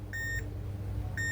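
Two short, clear electronic beeps from a multimeter in continuity mode, probing a capacitor on an HP laptop motherboard, each about a quarter second, separated by a pause over a low background hum.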